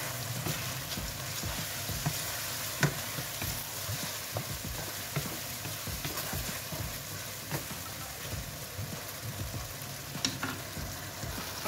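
Tomato and egg stir-frying in a pan with green onion tops just added, a steady close sizzle with frequent light scraping and stirring clicks throughout, no talking.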